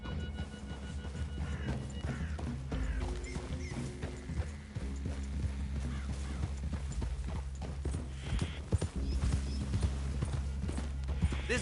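Several horses walk in Red Dead Redemption 2 with steady, overlapping clip-clop hoofbeats, close and clear over a low tonal background, with no speech.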